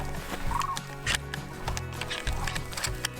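Chickens and roosters loose on an upland bird hunt in Saskatchewan cluck and gobble-like call in a busy, fairly close jumble with scattered knocks and thumps, no clear speech.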